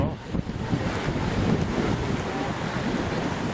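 Big surf at Bondi Beach rolls and crashes continuously, a broad steady wash of waves mixed with gusty wind buffeting the microphone, with no talking.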